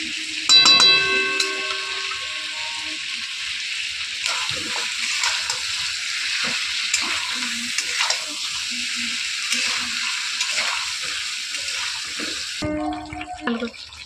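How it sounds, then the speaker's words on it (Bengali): Spices and ginger-garlic paste sauté in a pan with a dense, steady sizzle and the scrape of stirring, loud and close throughout, with a louder burst at the start and a change near the end. "দিয়ে ভালো করে কষতে থাকো।"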